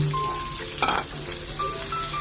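Onion and pork sautéing in a hot pan, with a steady close sizzle and frying crackle throughout and a brief burst of stirring scrape near the middle.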